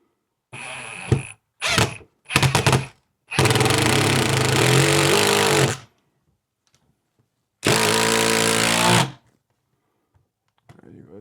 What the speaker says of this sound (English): Go ahead and tighten the top one.